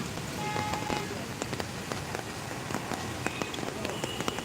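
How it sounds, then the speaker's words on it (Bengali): Heavy rain falls on a street in Kolkata, a dense steady hiss with scattered sharp drop impacts, fairly loud and continuous throughout. "এই মুহূর্তে একদম বৃষ্টি চলছে খুব প্রচুর পরিমাণে বৃষ্টি হচ্ছে"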